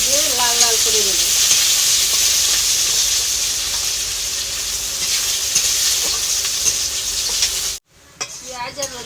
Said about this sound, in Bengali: এবার পেঁয়াজ দেবো, রসুন, ভেজে লাল লাল করে দেবো।